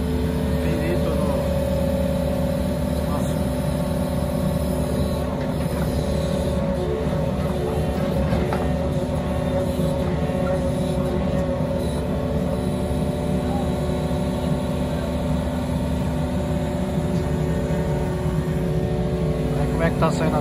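A Yanmar 55 excavator engine runs steadily at close range through the whole stretch, a dense continuous drone with mechanical rumble, while someone talks over it.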